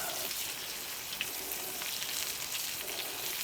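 A pork chop sizzles with butter on a hot coal shovel, giving a steady, close crackling hiss with faint pops that keeps going without a break.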